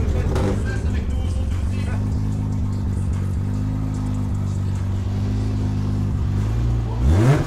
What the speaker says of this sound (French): Est-ce qu'on peut entendre le bruit de ce moteur